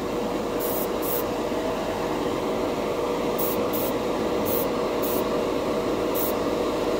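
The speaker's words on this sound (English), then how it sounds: "This airbrush is like it's made for it." An airbrush spraying Mr. Metallic Color GX metallic paint gives a steady, close, unbroken hiss with a few brief sharper bursts.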